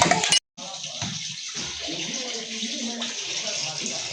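Water poured steadily in a busy home kitchen, a continuous gushing splash after a brief clatter and silence at the start.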